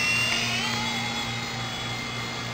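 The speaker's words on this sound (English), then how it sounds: "You can pretty much let go of the transmitter, and the helicopter should fly by itself, or should hover by itself." A small Blade mSR radio-controlled model helicopter hovers nearby with a steady high-pitched electric whine and a constant rotor hum, loud and unbroken throughout.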